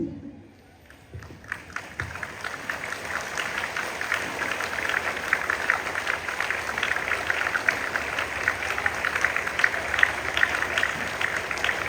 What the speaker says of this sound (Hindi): मैं चाहूँगी कि मेरे कहने के बाद सारे बच्चे बहुत ज़ोरदार ताली खड़े होकर के बजाएंगे